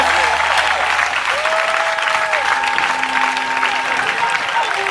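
Wedding guests applaud and cheer as the newlyweds are presented, sustained loud clapping from a crowd with voices and whoops rising through it.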